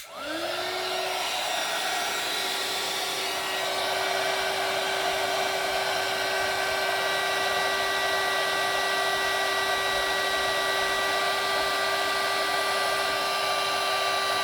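Heat embossing gun blowing hot air, starting up abruptly and then holding a loud, steady whining drone close to the microphone with no talking.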